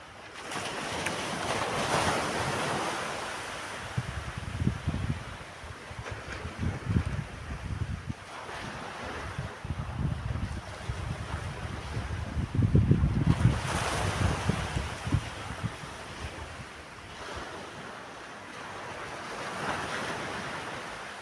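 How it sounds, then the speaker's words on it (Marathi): Sea waves surge and wash in repeatedly, swelling and then easing off, with wind gusting against the microphone. "आला का ऐकू लाटेचा सायलेंट होत जाणारा आवाज"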